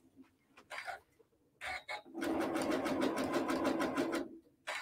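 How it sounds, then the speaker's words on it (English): Sewing machine running a steady zigzag stitch over thin cord for a rope coaster, with a few short starts before settling into a loud, continuous rapid stitching run that stops near the end. "So you just want to keep it flat while you're sewing."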